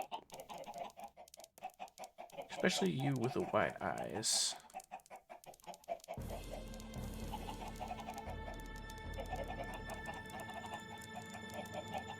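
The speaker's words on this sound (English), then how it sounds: "Come join me, chickens." Backyard chickens cluck and squawk near a person calling to them and speaking over the birds, with a loud flurry of clucks in the first half before a steady, even background noise takes over.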